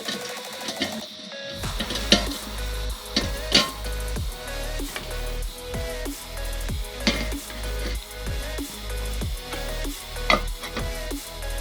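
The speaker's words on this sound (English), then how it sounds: "Chopped up the grouse a little, make it cook a little faster." Chopped grouse sizzles in a pan over a campfire-style outdoor setup, a steady bed of frying hiss with repeated clinks and scrapes of utensils close by, no voices.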